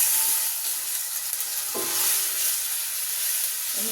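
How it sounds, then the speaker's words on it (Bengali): Ginger-garlic paste frying with black pepper and other spices in a pan makes a continuous, fairly loud hissing sizzle with a faint scrape partway through, and no one speaks. "এটাকে ভালো করে আদা রসুনের পেস্টটাকে ভালো করে ভুনা করে নিই"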